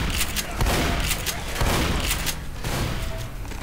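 Rapid gunfire from the zombie shooter Left 4 Dead, a dense loud volley of shots filling the whole stretch with a few heavier booms mixed in.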